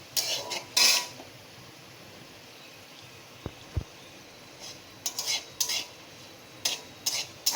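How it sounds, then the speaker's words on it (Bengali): Nigella seeds frying in oil while being stirred in a pan, heard as scattered scraping strokes of a utensil in short bursts separated by quiet stretches, with a faint sizzle and no voices. "কালো জিরেটা দিয়েও একটু ভেজে নেব"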